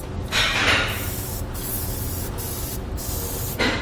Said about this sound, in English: we're going to use some silicone spray just to kind of lubricate that